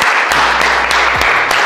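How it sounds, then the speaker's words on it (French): A short burst of applause, many hands clapping together in a steady dense patter, close and fairly loud. "on peut applaudir Mélissa pour sa présentation"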